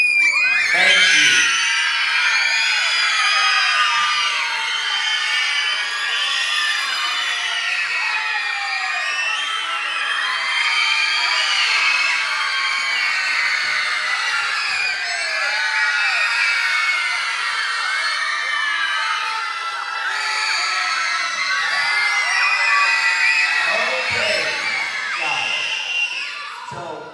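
Students at a school pep assembly scream and cheer toward a team, a dense, loud, sustained crowd roar of high-pitched children's voices lasting the whole stretch.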